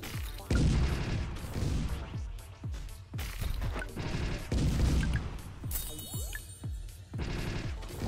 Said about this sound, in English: the rockets seem fairly powerful, but the reload speed is obviously going to get us into huge trouble